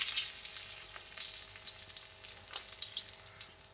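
Chillies fry in hot oil with mustard seeds for a bitter gourd pickle, a close, bright sizzle scattered with sharp crackles and pops that runs continuously and slowly eases.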